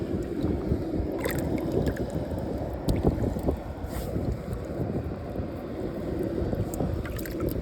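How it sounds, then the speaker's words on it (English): Strong, steady wind rushes outdoors on open water, a constant broadband roar with microphone buffeting and occasional small splashes or knocks, no voices. "That wind is increasing"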